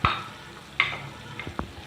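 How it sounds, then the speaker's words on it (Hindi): Onions fry to light golden for anarkali biryani, a soft steady sizzle close by with a few light knocks of a spoon on the pan, and no talking. "ये प्याज देखिए हमारा लाइट गोल्डन हो गई"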